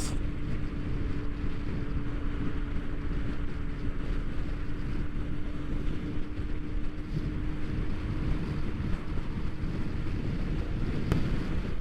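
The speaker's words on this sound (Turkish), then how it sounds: "Rüzgar da var ya savuruyor beni." Steady, heavy wind roar buffets the microphone continuously with no breaks, low and rumbling throughout, close and loud, with no voices, while riding a Honda PCX 125 scooter on a highway near Izmir, Turkey.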